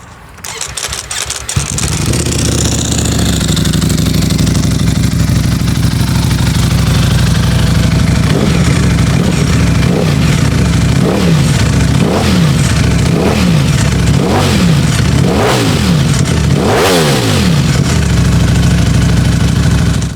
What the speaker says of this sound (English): that exhaust is also another piece of this bike that makes it roar like a Ducati